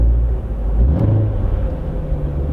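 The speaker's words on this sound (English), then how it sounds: "you can kind of hear the supercharger whine too from the inside here" Inside a 2016 Corvette Z06 with the Z07 package, the supercharged engine revs with a low rumbling drone and a faint rising whine on top, steady and close, with no one talking.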